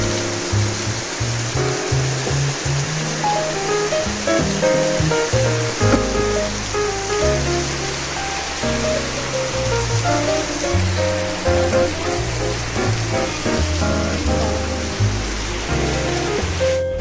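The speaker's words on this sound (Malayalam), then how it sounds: "നല്ല മഴയാണ് ഇവിടെ" Heavy rain pours down steadily at a roadside toddy shop in Changanassery, a dense continuous hiss and roar that stays loud and even throughout, with no clear voices above it.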